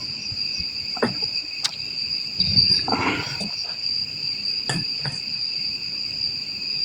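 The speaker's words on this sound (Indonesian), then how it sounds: "Aduh, ini jangkriknya." A cricket chirps in a steady, shrill, continuous trill close by, accompanied by scattered clicks, taps and a brief rustling thump midway, with no clear speech.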